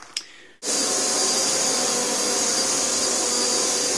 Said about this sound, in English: It's quite an easy vacuum to push, although it is a bit loud.